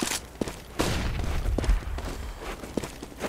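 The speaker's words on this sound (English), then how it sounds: "I'm throwing a flashbang." In a video game, a thrown flashbang grenade bursts with a sharp broadband crack and low thump, followed by scattered pops and thuds that sound like gunfire and footsteps, loud and close.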